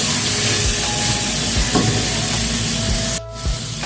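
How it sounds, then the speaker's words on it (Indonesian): Fried jengkol being stirred into a sweet and spicy seasoning in a pan, a steady close sizzle and frying hiss with soft periodic scraping strokes, briefly dipping near the end, no talk. "Masukkan jengkol yang sudah digoreng tadi. Aduk sampai bumbu tercampur rata."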